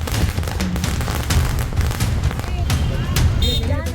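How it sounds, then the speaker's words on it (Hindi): Dense, continuous crackling of firecracker strings bursting in the streets, a chaotic rattle of pops over a loud outdoor crowd din with slogan chanting, in Maharashtra, India. "सड़कों पर फूटती पटाखों की ये लड़ियां"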